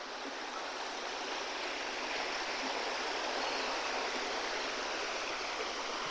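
Water pours steadily from a pipe into a small natural pool at a campsite on the RJ/MG border near Visconde de Mauá, a loud, continuous rushing flow with no voices.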